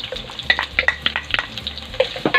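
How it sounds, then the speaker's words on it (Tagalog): Ginger and garlic sauté in a pan with a close, steady sizzle broken by quick, repeated stirring scrapes of a utensil against the pan, and no talking. "Ngayon, manggigisa na tayo. Yan, unahin natin yung luya para magbigay ng aroma. Tapos sabay natin yung bawang."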